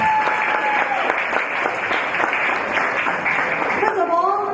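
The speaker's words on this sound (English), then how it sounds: "Clap now, clap now." Dense audience applause fills a press conference and launch party for The Paranormal Zone, steady and loud throughout, with a voice starting to speak as it fades at the end.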